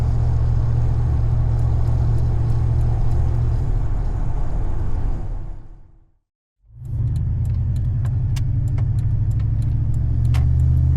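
Ram 1500 pickup with a rebuilt 46RE automatic transmission, heard from the cabin: a steady low engine and road drone suddenly drops nearly to silence for a moment, then returns as the transmission shifts into overdrive and the torque converter locks.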